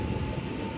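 A Siemens train at Flinders Street station gives a brief, steady rumble of rolling stock at moderate distance, with no talking.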